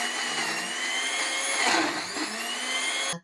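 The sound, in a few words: blender running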